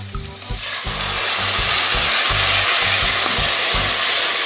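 Onions, cabbage and peppers sauteing in a pan for a Mexican yellowtail fish soup, a loud continuous sizzle swelling up under a rhythmic low pulsing hum.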